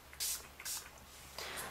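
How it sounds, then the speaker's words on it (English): Makeup setting spray misted toward the face from about 8 to 10 inches away, three short, soft pump bursts in quick succession, quiet and close. "I'm going to hold it about 8 to 10 inches away from my face again and spray."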